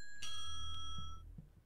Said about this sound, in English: I've rung the doorbell now, so would that wake him up?